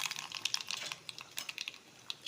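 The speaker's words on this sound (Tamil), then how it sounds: "கொஞ்சமாக எண்ணெய் ஊற்றி கொஞ்சம் கடுகு" Mustard seeds crackle in a little hot oil for tempering, producing faint, close, irregular sharp pops and sizzling crackles in quick bursts with no talk.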